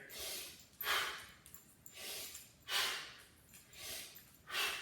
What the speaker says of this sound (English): Listen to my breathing here.